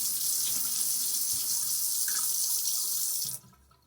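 Water from a plastic drinking bottle pours steadily onto an item to wet it, a continuous close splashing rush that stops abruptly near the end.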